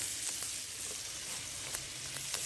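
Wild boar meat sizzles in a hot pan outdoors in a back garden, a steady close crackling hiss with occasional sharper pops, no voices over it.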